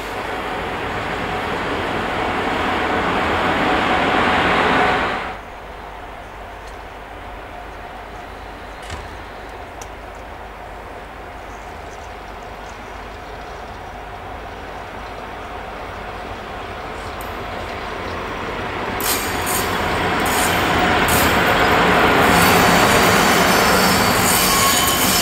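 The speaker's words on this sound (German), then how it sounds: "Während die Lokomotive die Bühne verlässt" A DB class 103 electric locomotive pulls away at the DB Museum Koblenz summer festival, a steady rolling rumble with rail noise that drops quieter after a few seconds, then swells again, nearby and continuous without talk.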